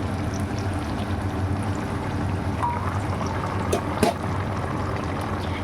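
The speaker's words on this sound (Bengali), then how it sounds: "এই ইলিশ মাছ রান্না করার জন্য এর মধ্যে দিয়ে দেব পরিমাণ মতো গরম জল" Hot water is poured into a pan onto fried hilsa fish pieces, a steady rushing pour with a light sizzle and a small clink near the end.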